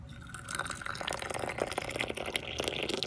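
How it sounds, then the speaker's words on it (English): Water splashes and trickles as a clay gongfu teapot is rinsed, a steady wet pouring and dripping close by with no talk. "So the first step, we're going to wash our teapot."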